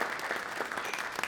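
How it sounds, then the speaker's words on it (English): Brief applause from an audience at a talk on multiple sclerosis treatment, a dense steady patter of many hands clapping at moderate level, with no voices. "Let's give the gentleman a round of applause for having to run up here."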